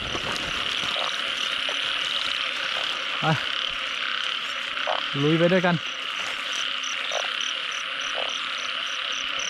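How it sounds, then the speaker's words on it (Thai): Frogs croak in rice paddies at night, a few nearer calls and rapid croaking bursts standing out over a dense steady chorus of insects and crickets, with someone speaking briefly. "ฝั่งทางนี้กบร้องไม่เยอะนะ มันไปร้องเยอะอยู่ฝั่งทางที่มีน้ำเยอะๆนู่น"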